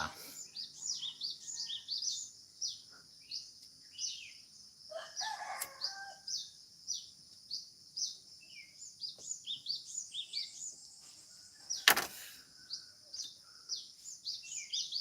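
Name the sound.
birds singing outdoors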